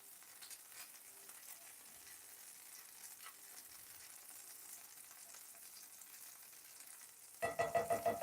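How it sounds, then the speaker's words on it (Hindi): Oil sizzles softly and steadily in a pan during a light sauté for a whole wheat pizza, with a louder burst of sizzling and stirring near the end. "बस थोड़ा सा सॉटे करना है ऑयल में।"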